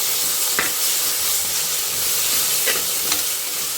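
Onion, tomato and ginger-garlic paste sautéing in a pan give a steady, close sizzle and hiss, with a few light scrapes of stirring and no talk.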